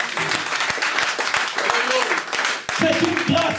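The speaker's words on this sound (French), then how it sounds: "t'as des acclamations pour cela" Church congregation clapping and calling out in acclamation, busy applause mixed with raised voices and cheers, close and loud, with a voice sounding over the clapping near the end.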